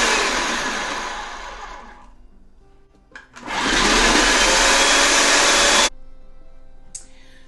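A food processor slicing onions: a loud steady motor whir that winds down, then a second long burst running at full speed before stopping abruptly, close and alone.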